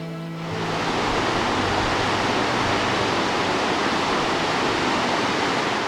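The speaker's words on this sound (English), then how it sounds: "Plunging 120 meters, this is the second highest waterfall in Scotland." Steall Falls in Scotland, a 120-metre waterfall, roars as a steady, dense broadband rush that swells in within the first half second and stays loud and unbroken, with no voices over it.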